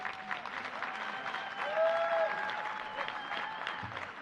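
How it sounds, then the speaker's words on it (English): Banquet guests at a sports hall of fame dinner break into steady applause, many hands clapping together at a distance with a brief whistle-like tone rising midway. "Let's give them one loud round of applause."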